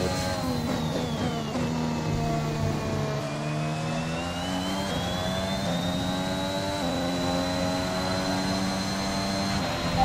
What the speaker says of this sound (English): I just heard some engines looked on the mini-map and I see two Red Bulls and a Mercedes